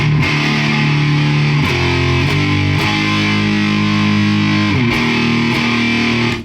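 Electric guitar played through a Big Muff Pi clone fuzz pedal fitted with a Burr Brown 2277 op-amp, giving thick, sustained distorted chords that change every second or so, loud and continuous with no talking.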